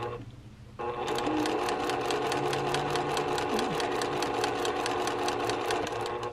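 A sewing machine stitches a quarter-inch seam on a quilt block. After a brief quiet start it settles into a steady, rapid run of needle strokes close to the microphone.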